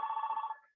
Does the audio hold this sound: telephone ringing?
yes